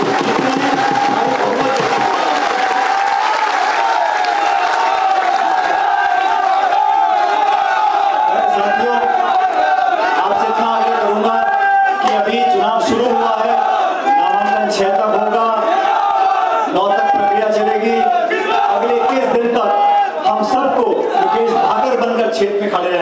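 Crowd at a political election rally in Ladnun roars and cheers loudly and continuously, many voices shouting and whooping together in a sustained wall of sound.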